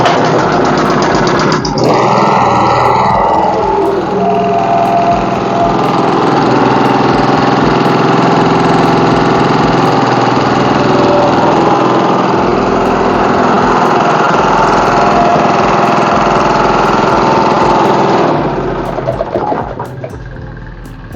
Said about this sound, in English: it's about time we kickstart the generator now to see if it's going to work